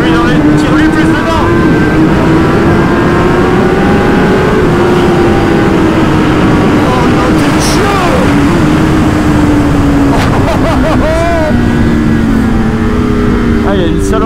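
A Kawasaki ZX-10R superbike engine howls loudly around a race track, its pitch rising and falling through upshifts and downshifts in a continuous, close high-revving roar, with a voice faintly underneath.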